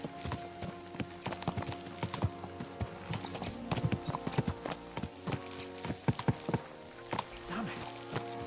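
Horses in Kingdom Come Deliverance 2 clip-clopping at a brisk pace, a steady run of sharp hoof strikes over a droning musical score, with a brief whinny partway through.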